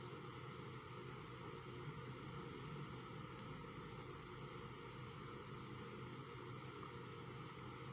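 A sewing machine runs steadily, stitching a top seam along the placket strip of a pair of trousers, a continuous even motor whir with no pauses.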